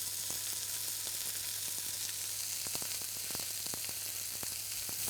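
A steak sizzles steadily in a very hot pan after being flipped, a dense continuous frying hiss with scattered sharp pops and crackles, close and fairly loud with no talking.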